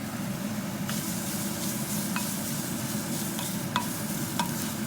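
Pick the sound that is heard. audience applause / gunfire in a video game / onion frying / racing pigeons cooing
onion frying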